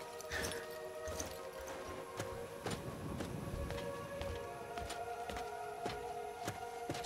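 Horse hooves clip-clop at an even walking pace in the Wildlander game, a run of crisp, close hoofbeats over a faint steady background hum.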